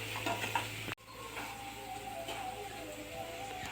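Garlic leaves, green chillies and curry leaves sautéing with a pinch of salt in a pan, a soft, steady sizzle with light stirring taps, quiet and close, broken by a brief cut early on.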